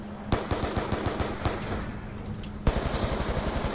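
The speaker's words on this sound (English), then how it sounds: "Keep on shooting this guy to get as many points out of him as possible." Sustained automatic gunfire aimed at a zombie in Black Ops 2 Zombies, steady rapid shots in close succession with a couple of heavier, louder blasts standing out, heard near and fairly loud throughout.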